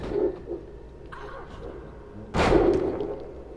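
A wrestler slammed to the mat in the wrestling video game WWE 2K24, a single loud thudding impact with a burst of crowd-like noise after quieter ring sounds.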